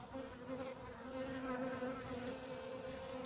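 A steady, droning buzz of many honeybees, including black bees, fills the air continuously inside a tent, close and moderately loud, with no voices.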